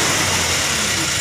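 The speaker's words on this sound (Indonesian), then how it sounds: "mesin pincang nyendat-nyendat itu mas ya, jebret-jebret" A Daihatsu Delta engine with a leaking head gasket runs close by, a loud steady rumbling drone with low pulsing throughout the short stretch, no voices.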